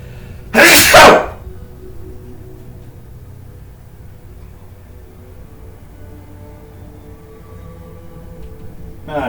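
A single loud, sharp human sneeze bursts out near the start, followed by quiet background hum from a Fallout 4 game session and a faint sound at the very end.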